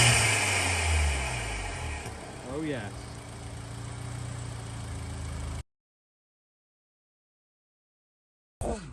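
A Mk7 Golf R engine fitted with a Tyson intake kit revs up and settles, with a rising and falling engine note over a steady idle, then stops abruptly before a short snatch of sound returns.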